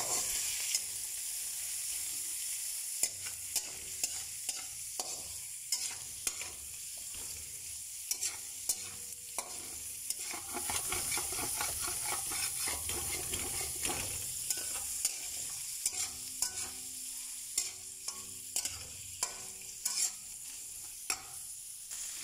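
Sautéing in a pan for Filipino pancit canto: a continuous bright sizzle and hiss with frequent close scrapes and taps of stirring, no one talking.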